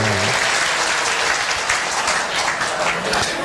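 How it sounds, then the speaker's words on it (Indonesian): A crowd applauds steadily and loudly throughout, a dense wash of clapping with no pauses. "Tepuk tangan dengan."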